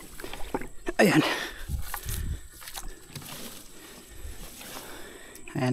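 A small rowboat moves through water with soft splashes and paddle sloshes, while people speak nearby in the background.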